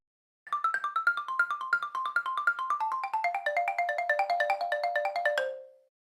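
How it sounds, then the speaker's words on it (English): A bright mallet-percussion instrument played with hard rubber or plastic mallets runs a quick, even melody of crisp ringing notes that steps downward and ends on a short sustained tone, heard alone. "it's often played with rubber, harder mallets that can also be plastic to help create that crisp sound"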